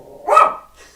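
A single dog gives one sharp, loud bark close by, rising abruptly out of quiet and trailing off quickly.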